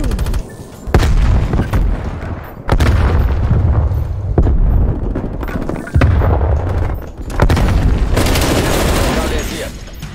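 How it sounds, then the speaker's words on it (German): A grenade blast in a Call of Duty match on the Nuketown map, loud booms and gunfire bursts repeating across the stretch, with a voice shouting over the combat. "Werfe Granate!"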